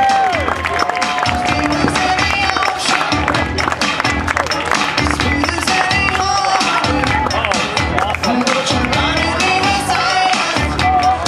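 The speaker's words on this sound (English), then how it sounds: "Give them a big round of applause," A crowd at a costume event cheers and claps for the finance operations department dressed as Avengers, loud sustained applause layered with shouts and voices.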